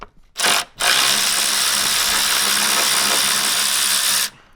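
A cordless power tool set to reverse undoes 10 mm bolts on the coolant overflow tank of a diesel Hyundai i30, with a brief whir, then a loud, steady motor whine running for about three and a half seconds before stopping.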